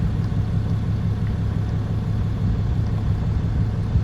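Ram 2500 Cummins diesel pickup, 2010-2018 generation, idling just after start-up: a steady low rumbling drone, close and even throughout, with no voices.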